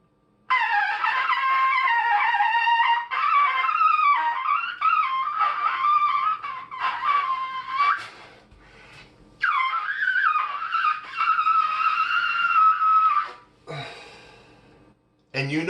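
A trumpet played with a weak embouchure sustains wavering, thin tones in long phrases, broken by short pauses, with a brief breathy scrape near the end.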